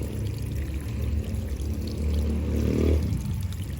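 Water poured over fast-draining bonsai potting medium with large stones at the bottom of the pot, draining through in a steady low gush for about four seconds with no talking.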